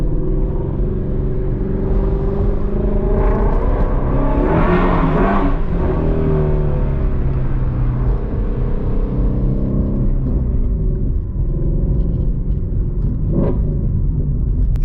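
A Ford Shelby GT350 V8 growls loudly from inside while driving, a deep steady rumble that rises through revs around the middle then settles into cruising drone.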